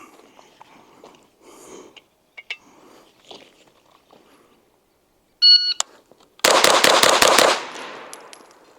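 A Springfield Kuna pistol-caliber carbine fires a fast string of about seven loud shots in close succession, just after a short electronic timer beep, with quiet rustling before it.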